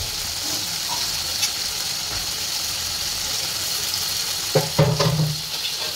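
Boiled jackfruit tipped into a hot pan of oil, a steady loud sizzle with a brief crackle of scattered stirs and a clunk of the spatula near the end, close up, no speech.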